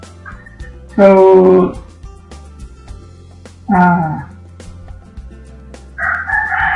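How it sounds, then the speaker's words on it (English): Backyard chickens make noise behind a quiet indoor room, with a rooster giving two loud crows a few seconds apart and then a higher clucking call at the end, all clear and fairly near. "Sorry for the chicken background."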